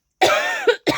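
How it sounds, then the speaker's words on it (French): A woman coughs sharply at close range, one long rasping cough followed by two quick shorter hacks, loud and alone. "Pardon pour la toux."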